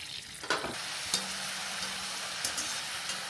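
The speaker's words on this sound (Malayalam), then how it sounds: "ഇന്നിപ്പോൾ പപ്പടം ഫുള്ളായിട്ടല്ല, ചീന്തിയാണ് വറക്കാൻ പോണേ." Torn papadam pieces frying in hot oil, a steady bright sizzle with occasional stirring clinks and bubbling pops, close and continuous.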